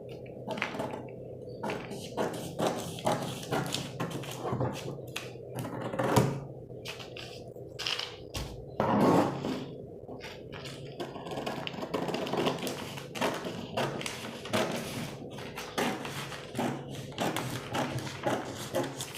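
Scissors snip through fabric while pattern pieces for a corset blouse are cut, including pieces cut on the fold; a steady run of close, crisp clicks and rustles continues throughout with no talking.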